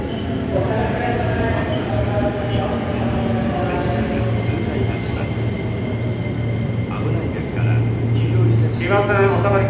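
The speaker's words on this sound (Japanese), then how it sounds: "列車通過となります。" A JR 189 series train passes through Hachioji station, a steady loud rumble of wheels and carriages sustained throughout, with a bright wheel squeal near the end and a platform announcement voice over it.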